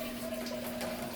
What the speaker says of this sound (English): I'm going to press the button that says shower.